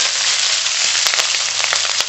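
Garlic and green chillies frying in hot oil, with a steady, dense sizzle and scattered sharp crackles and pops throughout. No one speaks.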